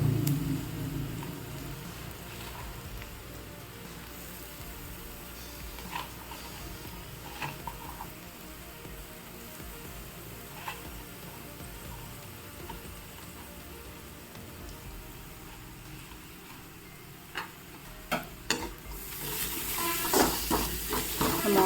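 Grated carrot sautéing in a pan, a soft, faint sizzle with scattered light clicks of stirring that grow busier and louder toward the end, heard close with no voices.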